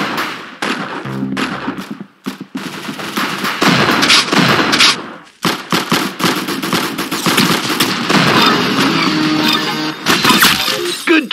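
Rapid automatic gunfire from the Roblox shooter Arsenal, loud, dense and continuous, with bursts of shots, cracks and shattering impacts running through most of the stretch and only brief pauses.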